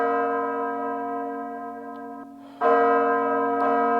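Church bells ring with a sustained, humming resonance, then a fresh, louder strike swells in and keeps tolling, with no voices.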